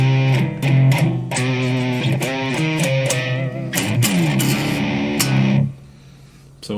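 Ibanez RG7321 seven-string electric guitar played with a raw, gritty distorted tone, loud chords and riffs ringing with harmonic-rich crunch before cutting to a quieter tail near the end.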